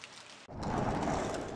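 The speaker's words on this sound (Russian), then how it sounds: "Дождь льет" Heavy rain pours in the video game Gemini Rue, a dense steady hiss that swells loudly after a brief quieter moment, heard alone without speech.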